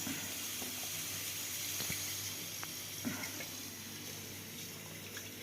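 Steady wet trickling and dripping as water runs out of bharanga leafy greens being squeezed, with a constant hiss underneath and a few small splashes.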